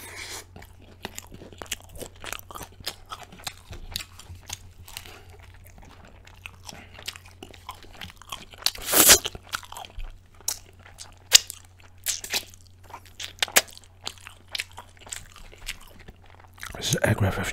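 Close, crisp bites and crunches from eating an egg and cheese wrap, with scattered chewing and a few louder bursts over a faint low hum; a voice is also present.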